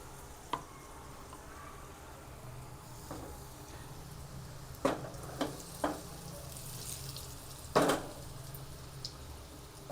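Bangda mackerel fish frying in hot oil in a pan, a low steady sizzle broken by several sharp crackles and spatters, close by with no voices.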